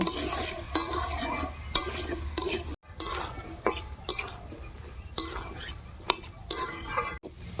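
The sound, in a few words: stir-frying with salt and turmeric in a pan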